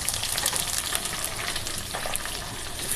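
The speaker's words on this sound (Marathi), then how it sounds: "मग मी आता याबरोबर मिरच्या तळल्यात।" Green chillies, slit and stuffed with salt, frying in hot oil beside bhaji, a dense, even sizzle close up with scattered tiny spits and crackles throughout, no voices.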